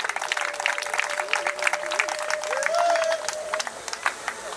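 Applause and crowd noise at an evening wedding reception for the couple, steady clapping with a sustained whistle-like tone running through the middle.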